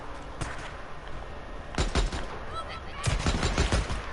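Gunfire from a sniper in the Days Gone video game rings out as a few sharp shots followed by clustered bursts, loud against a low background rumble, with no speech.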